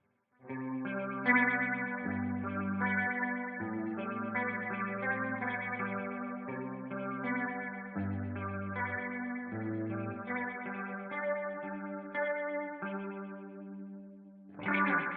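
An electric guitar plays a chord-based riff through an LFO-driven sweeping wah filter that rhythmically opens and closes, with a bright, warbling tone throughout.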